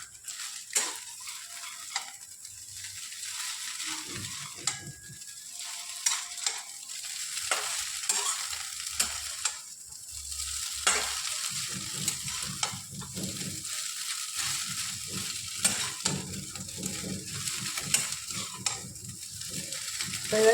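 Chow mein is stir-fried in a pan, with a steady sizzle under repeated scraping and clattering strokes of a utensil against the pan, close and continuous.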